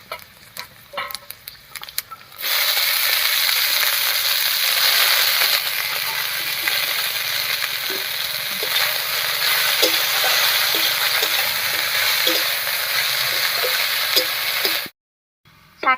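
Chopped kulekhara greens dropped into a pan after black cumin has fried, a loud steady sizzle starting abruptly and running on with faint ticking stirs before stopping suddenly.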